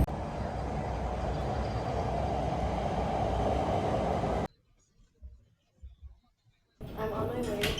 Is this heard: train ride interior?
yes